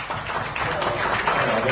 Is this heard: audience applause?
yes